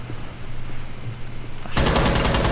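Gunfire from a Rainbow Six Siege match bursts in loud and close after a quiet stretch, a dense rapid string of shots filling the last second or so.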